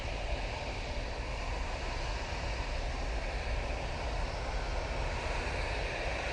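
A Ryanair airliner takes off at Manchester Airport, its engines giving a steady, loud, broadband roar that holds constant throughout with no voices.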